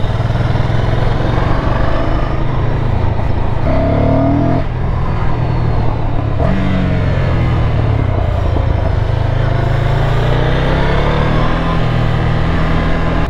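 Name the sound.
Ducati Scrambler motorcycle riding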